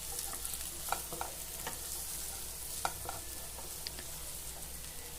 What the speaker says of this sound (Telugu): ఇంకా ఒక స్పూన్ చిల్లీ సాస్, ఒక స్పూన్ టమాటా సాస్ వేసి బాగా కలుపుకుందాం.